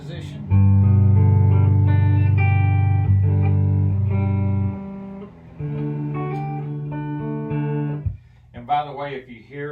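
Clean-tone electric guitar played on the neck pickup of a Carbon guitar, sustained chords and picked notes ringing fairly loud and close, fading near the end with a faint fan running behind.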